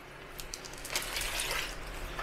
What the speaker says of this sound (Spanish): La llenamos bastante de agua.